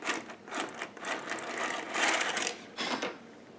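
A Sister Toy knitting machine carriage being pushed slowly across the bed with yellow-orange yarn, making a series of rattling, whirring passes with brief pauses between them, close and moderately loud with no talking.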